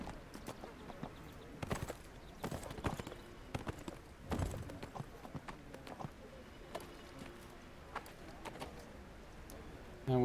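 Horse hooves clip-clop at a walking pace in the video game Neverwinter, an irregular run of hoof falls with occasional louder thuds, moderately quiet with no talk over them.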